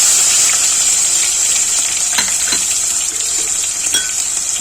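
Onions tipped into hot oil over fried tempering spices for a spicy potato and pointed gourd curry with small fish give a steady, close sizzle and crackle with a few light clinks, and no voices.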